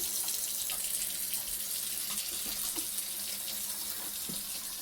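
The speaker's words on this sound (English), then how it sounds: "We have running water again." Water runs steadily from a newly installed kitchen sink tap in a cabin, a continuous close hiss with light splashing into the basin throughout, no voices.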